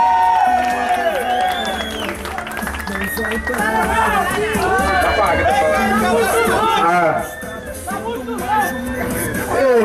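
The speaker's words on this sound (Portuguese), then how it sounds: "Uma salva de palmas," A crowd at an outdoor gathering in São Paulo's Horto Florestal claps and cheers, the applause mixed with loud chatter and excited voices all around throughout.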